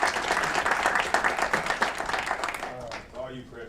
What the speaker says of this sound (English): Again, another round of applause for FH Passion.